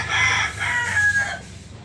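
A young gamecock stag crows once at close range, a loud hoarse call lasting under two seconds with no talk over it.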